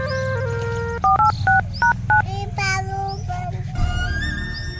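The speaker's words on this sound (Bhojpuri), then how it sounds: "हम 112 पर फोन धरबै छी" Someone dials the police emergency number 112 on a telephone keypad, producing a quick series of distinct touch-tone beeps over background music.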